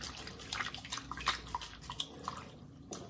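Sponge on a stick drawing water out of a freshly thrown stoneware mug on the wheel: soft, close wet dripping and squelching with small irregular trickles, fairly quiet and steady, no voices.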